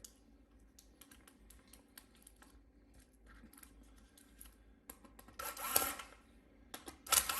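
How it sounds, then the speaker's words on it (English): Screws come out of a Dell Inspiron 5593 laptop with faint, scattered clicks and small metallic scrapes, close and quiet. A louder rustle follows near the end, with no talking. "You remove all the screws."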